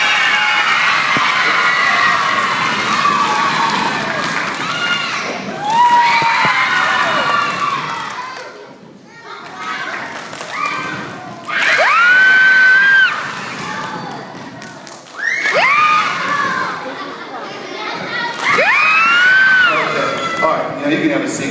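Audience at a school assembly clapping and cheering in several loud bursts, with shouts and whoops from children, between stretches of someone speaking over a microphone.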